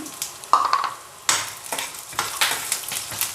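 Onions sizzle steadily in a hot pan while being cooked for jonna (sorghum) idli, with sharp scraping stirs of a spatula breaking through the frying crackle at irregular intervals, close and fairly loud.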